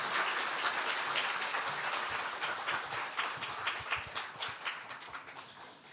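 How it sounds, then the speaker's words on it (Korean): A church congregation claps in welcome during a Sunday worship service, a steady wash of many hands at moderate distance that thins into scattered claps as it fades, with no talking over it. "앞으로 나오실 때 우리 환영의 박수로 모시도록 하겠습니다."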